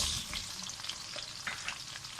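Onions and a whole piece of ginger fry in a pan, producing a soft, steady crackle and sizzle with a few light stirring taps, faint and close, with no one speaking.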